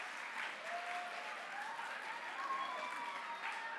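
A book fair audience breaks into steady, sustained applause, a dense wash of clapping from a crowd that carries on evenly, with a few faint whistles or voices mixed in.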